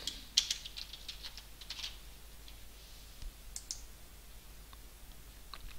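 A computer mouse clicks a handful of times, sharp, small, close-up taps at irregular intervals, with faint typing-like clicks in a quiet room.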